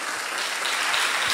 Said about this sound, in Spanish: Pues otro aplauso